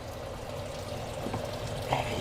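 Water running through a greenhouse nutrient watering system on a high desert off-grid homestead in northern Arizona, a soft continuous pouring and trickling flow, fairly close and steady with slight gurgles.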